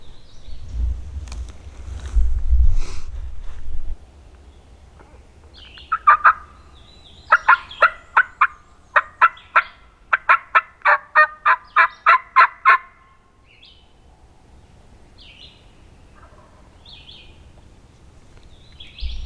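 Wild turkeys gobbling on an Arkansas spring morning during opening day of hunting season: a distant gobble early, then a long rapid series of loud, rhythmic gobbling calls from one bird, with soft low rumble and faint noise between.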